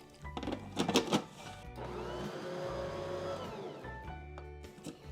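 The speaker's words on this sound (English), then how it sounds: "I'm gonna put in my spelt flour and my almond flour, and I'm gonna give that a little whirl" A blender whirls spelt flour and almond flour, starting with a few short choppy pulses and then settling into a sustained whine for about two seconds before cutting off.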